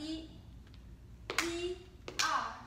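Hand claps during a Timber dance routine, two sharp near claps about a second apart over quiet background, with a voice speaking briefly.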